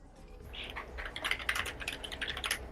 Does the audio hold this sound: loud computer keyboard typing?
yes